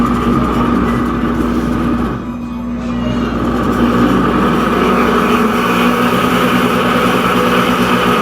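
A Pampered Chef Deluxe Cooking Blender runs while heating homemade eggnog, giving a steady close motor hum with a faint high whine that holds evenly throughout, with only a brief dip early on.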